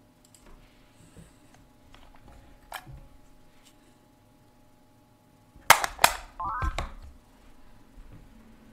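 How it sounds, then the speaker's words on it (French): A telephone handset is picked up and hung up, sharp plastic clacks and rattles in a quick cluster after soft handling noises, close and loud in a quiet room. "j'ai mon bruit de téléphone qu'on décroche et qu'on raccroche"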